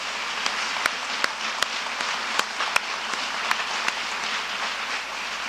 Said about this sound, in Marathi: एक जोरदार टाळ्या या सर्व कलाकारांसाठी आपण देऊया